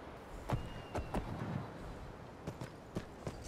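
Horse hooves clopping in the video game Skyrim, a run of sharp, moderately quiet footfalls in an irregular walking rhythm over a faint background.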